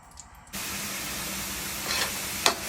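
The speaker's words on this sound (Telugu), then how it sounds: "ఇలా ఫ్రై అవుతూ వస్తుంటుందండి" Grated carrot frying in ghee for carrot halwa, a steady close sizzling hiss that starts abruptly and carries on evenly, with a couple of brief louder scraping stirs near the end.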